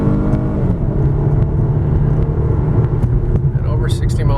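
A 2011 Ford Taurus Limited sedan accelerating at full throttle, heard from inside as a steady, smooth engine drone and road rumble that stays even throughout, with someone talking over it.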